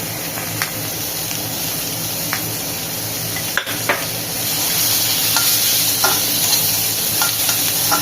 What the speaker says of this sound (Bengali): এই যে পেঁয়াজগুলো কেটে রেখেছিলাম, পেঁয়াজগুলো দিয়ে দিলাম।